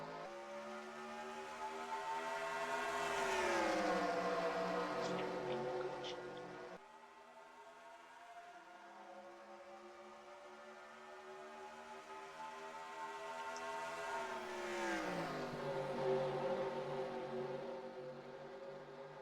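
Race cars in the NASCAR Racing 2003 video game at Rockingham roar steadily, their engine pitch sweeping up and down as they accelerate and lift through the turns, with the pack's layered drone continuing without talk.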